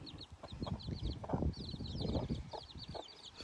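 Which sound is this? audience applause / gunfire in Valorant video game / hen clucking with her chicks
hen clucking with her chicks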